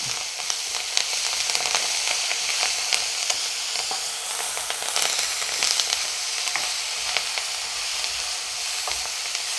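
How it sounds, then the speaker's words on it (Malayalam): Curry leaves and green chillies sauté in hot oil in a pan for a chicken mango curry, giving a steady close sizzle with small crackling pops throughout and no talk. "കുറച്ച് കറിവേപ്പില ഇത് നന്നായിട്ടൊന്ന് വഴറ്റിയെടുക്കാം"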